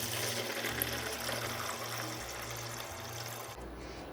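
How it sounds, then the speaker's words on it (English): Filtered water poured into the reservoir of a countertop ice maker, a steady gurgling splash that runs for several seconds and cuts off near the end. "And now we are going to put some filtered water"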